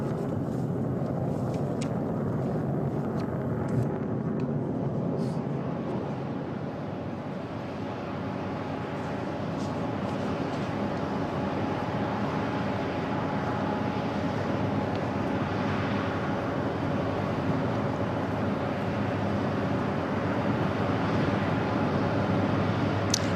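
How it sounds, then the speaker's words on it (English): An F-22 fighter jet makes a pass at the Bahrain Air Show 2016, heard as a continuous broad jet roar that holds steady throughout, fairly distant and without a sharp peak. "gonna get another pass from the F-22"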